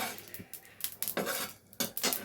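A mortar and pestle (hamandista) being handled while grinding spices in a home kitchen, giving bright metallic clanks and clinks in uneven bursts, close by with no talking.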